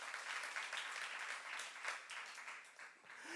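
Quiet applause from a church youth congregation during a sermon, a soft, even patter of many hands heard at a distance and fading slightly toward the end.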